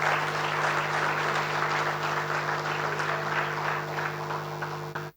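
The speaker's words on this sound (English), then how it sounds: "I'd like to ask you to give them a round of applause to all the ESCO members of the APICTA." A large audience at the APICTA Awards Ceremony 2022 gives warm, continuous applause for the ESCO members, a dense wash of clapping over a steady low hum that fades out at the end.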